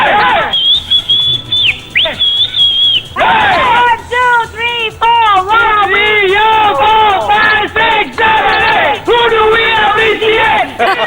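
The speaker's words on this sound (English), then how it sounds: "Guys, quick cheer for Team India." Crowd of Indian cricket fans, men and women, cheering and whooping for Team India in a loud, sustained burst of shouts and whistles, close by, with a brief lull at the start.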